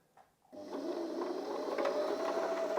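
A home sewing machine, set up by someone learning to sew for a clothing brand, starts after a faint click and then runs steadily with a close, continuous mechanical whir and rapid stitching chatter.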